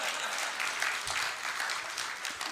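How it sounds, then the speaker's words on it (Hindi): Audience at a Hindi poetry recital (kavi sammelan) claps steadily throughout, a dense continuous applause that holds an even level with no voices. "ये कम ताली बजाई आपने।"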